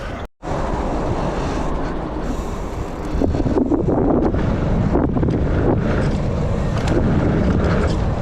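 Steady wind buffeting the microphone at an outdoor bike park, a loud continuous rumbling roar that rises slightly halfway through, with no speech.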